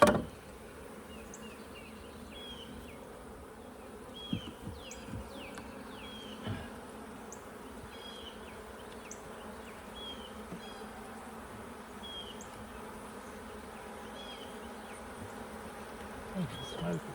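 Honeybees buzzing steadily around an open hive during a brood inspection and rotation, a continuous close drone with individual bees flying past, occasional soft knocks and handling sounds of hive frames.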